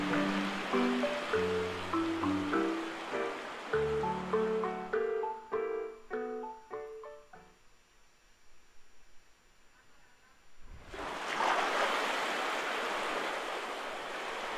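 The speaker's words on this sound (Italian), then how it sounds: "Sì, siamo quasi arrivati alle rapide." River water rushing toward rapids in the Paper Mario: The Origami King video game; a broad, steady roar of flowing water rises loudly after melodic game music fades out.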